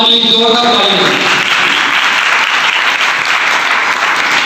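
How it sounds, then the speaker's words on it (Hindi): Loud, sustained applause from a large church congregation at an Easter service fills the space, following a brief moment of voices at the start. "जोरदार तालियां"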